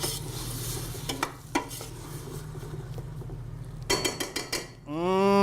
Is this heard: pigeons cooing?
no